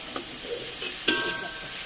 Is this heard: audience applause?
no